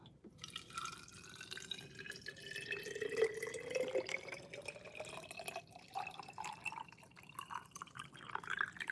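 Water pouring into a container, a steady trickle whose pitch rises as it fills, fairly faint and close with no talking.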